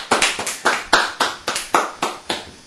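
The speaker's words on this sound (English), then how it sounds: "Let's give them a big round of applause" A single person claps about ten times at an even pace, close and sharp, with no voices and none of the wash of a clapping crowd.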